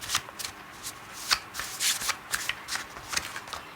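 Tarot cards being shuffled and drawn, a series of crisp, papery riffling bursts and flicks at an uneven rhythm, close and fairly quiet, with no talking.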